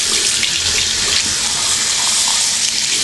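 Warm tap water runs steadily into a sink while paint or makeup brushes are washed, a close, continuous hissing splash with no voices.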